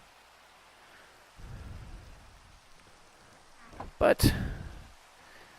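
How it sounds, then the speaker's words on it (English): Rain falls in Minecraft as a soft, steady hiss, broken by a sudden loud crack of thunder partway through, with a voice speaking briefly. "Oh sure, now it rains."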